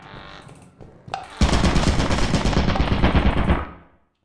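Turrets open fire in a video game, producing a sustained, dense roar of rapid gunfire about two and a half seconds long that fades out. It follows a few brief sharp clicks and is loud, with no speech.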